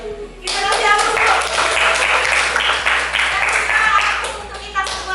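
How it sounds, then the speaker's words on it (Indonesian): A classroom of students applauds a presenting group, a dense burst of clapping from many hands that starts abruptly and continues steadily for several seconds with faint voices beneath. "Kita kasih aplaus dulu."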